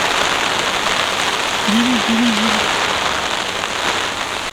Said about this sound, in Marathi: आत्ता पाऊस नव्हता आणि आता पाऊस आला